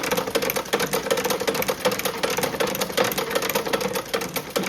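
An antique cobbler's sewing machine stitches leather and drops a few stitches when it runs backwards. Its fast, even mechanical clatter is loud and close and holds steady for the whole stretch.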